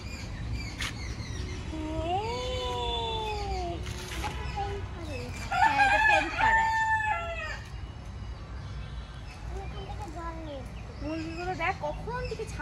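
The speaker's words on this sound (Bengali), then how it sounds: "মুরগিগুলো দেখ কখন থেকে ছাড়া" Village chickens clucking with a rooster crowing nearby, several drawn-out crows and calls over outdoor background noise.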